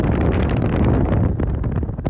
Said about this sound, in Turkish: rüzgarı hissediyorsunuz değil mi?